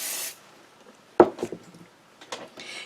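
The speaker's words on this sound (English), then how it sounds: "I'm going to spray it with my Pixie spray" Short bursts of Pixie adhesive spray hiss onto a stencil, one at the start and another near the end, with light handling clatter in between.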